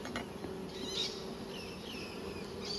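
Honeybees hum around a small plastic five-frame nucleus hive at Coramba, a faint, steady buzz with a few individual bees passing closer to the microphone.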